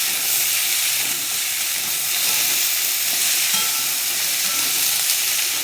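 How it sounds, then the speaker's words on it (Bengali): Potatoes, pointed gourd and pumpkin fry in a pan with a dense, even sizzle and hiss that holds steady throughout, close and fairly loud with no voices. "আমি আগে এগুলোকে ভালো করে সব ভাজবো।"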